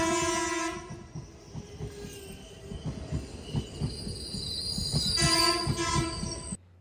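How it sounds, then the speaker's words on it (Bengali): Teesta Torsa Express pulling into platform 2 at night, with long loud horn blasts at the start and again near the end over a steady rumble and rhythmic wheel clatter of carriages rolling past close by. "চলে আসছে 2 নম্বর প্ল্যাটফর্মে তিস্তা তোর্ষা এক্সপ্রেস"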